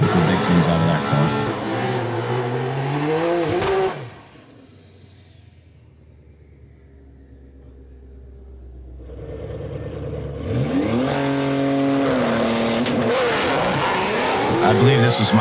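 A Shelby GT500 making a drag racing launch, with a loud engine roaring and rising through the gears, then a quiet gap before another car roars past with a high shifting whine.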